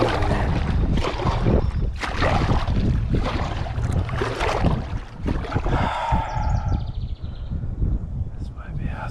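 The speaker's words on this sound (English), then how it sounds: "wind coming in" Wind gusts over open water on a fishing outing, buffeting the microphone with a loud, continuous low roar and rumble, while a voice talks faintly underneath.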